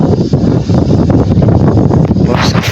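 Strong wind sweeps across a farm field during heavy rain, buffeting the microphone with a loud, constant low rumble and gusts and no voices.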